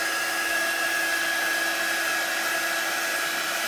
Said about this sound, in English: It's a heat tool that I've used for embossing